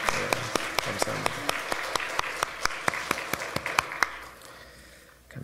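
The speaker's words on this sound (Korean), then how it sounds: "함께 큰 박수로 환영해 주시기 바랍니다" A church congregation at Sunday worship gives a welcoming round of applause, steady and moderately close, with a few sharp, distinct claps standing out in a regular beat before the sound fades away.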